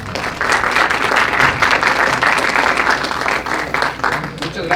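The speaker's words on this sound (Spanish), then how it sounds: "Por favor, recibamos un aplauso al ingeniero David." Attendees at an industrial control and automation expo applaud as an engineer is introduced, a dense, continuous burst of clapping lasting a few seconds with no speech.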